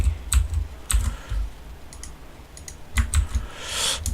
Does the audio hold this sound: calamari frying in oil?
no